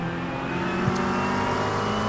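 A race car engine drones steadily in the iRacing sim at Spa during a 24-hour endurance event, a loud, continuous in-car engine note with a slight rise as another car passes close by.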